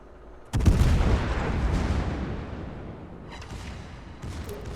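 A heavy naval gun salvo booms out abruptly from a cruiser in the World of Warships naval battle game, its deep blast rolling into a long fading rumble, with faint later shots far off.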